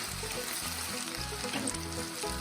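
Chopped onions soften over a controlled flame in a pan for rava upma, giving a steady, close sizzle and crackle throughout without any talking.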